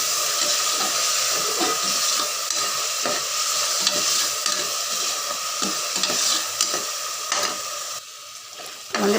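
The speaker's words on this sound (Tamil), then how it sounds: "நல்லா எண்ணெயிலையும் இந்த இஞ்சி பூண்டு இதோட பச்சை வாசனை போகிற வரைக்கும் நல்லா மிக்ஸ் பண்ணிக்கலாம்" Ginger-garlic paste frying in oil for chicken biryani in a pressure cooker, a loud continuous sizzle with steady rhythmic stirring strokes scraping the pot, close and without talk.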